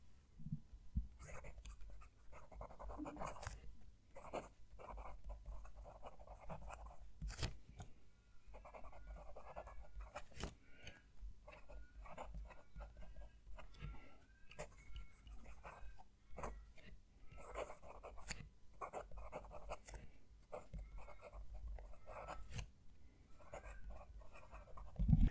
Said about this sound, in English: Let's move the mic down to the page and we'll write a sentence.